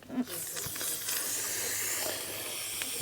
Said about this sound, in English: Right, let's purge it, get the air out of it.